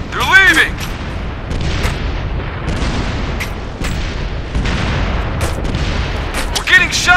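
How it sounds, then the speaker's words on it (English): Loud, dense battle din of gunfire and heavy booming explosions in the video game Operation Flashpoint: Red River, rolling on continuously with sharp crackling shots layered over deep blasts. "We're getting shot."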